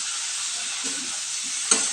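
Bright, steady hiss of okra frying with mustard in a pan, loud and close, with faint stirring scrapes and a quick clink near the end.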